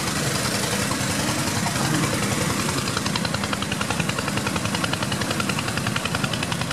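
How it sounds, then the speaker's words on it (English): A generator runs a mechanical water pump at a fish farm in Ilorin, Nigeria, giving a steady, loud, continuous engine drone with a rapid mechanical flutter that holds throughout. "You could hear a generator in the background that was running the mechanical pump."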